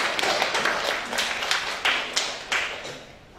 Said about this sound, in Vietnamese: các bạn hãy dành một tràng pháo tay lớn để chào đón cô Min Dương chúng ta nhé